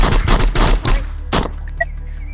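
Gunfire in the video game Lethal Ape, a rapid run of loud close shots followed by a single burst, then a short electronic tone.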